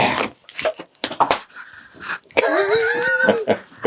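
A dog sniffs and snuffles right against a microphone, with close, quick bursts of breathy sniffing and panting, followed by a drawn-out whining whimper.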